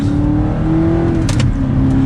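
Audi R8 supercar engine blipping and revving through downshifts, a loud close mechanical drone with a brief rise in pitch partway, heard alone.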